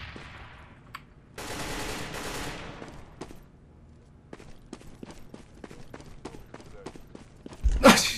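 Pistol gunfire in the video game CS:GO, a series of sharp single shots spaced through the clip with a burst of noisier firing early on, under some quiet game ambience.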